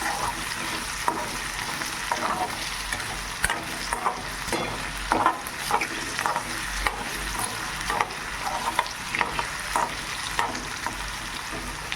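Potatoes are being stir-fried with salt in a pan, giving a continuous sizzle with frequent clattering stirs and scrapes of the spoon, close by and moderately quiet, without talk.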